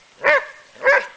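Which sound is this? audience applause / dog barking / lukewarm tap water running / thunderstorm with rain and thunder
dog barking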